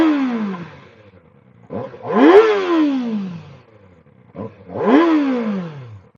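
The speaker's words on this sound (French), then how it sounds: "on se retrouve pour faire ce petit démarrage et voir le bruit qu'elle fait" A Kawasaki ZX4-RR motorcycle, a 2024 inline-four, is warm when it starts, then revs sharply twice. Each rev rises to a rasping peak and falls away, loud and close, with no voices.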